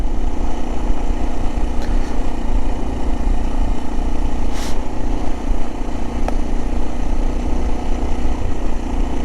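A Kawasaki KLX 230 six-speed motorcycle idles steadily and close by on a forest service road, a loud continuous low engine rumble running unbroken throughout with no talk.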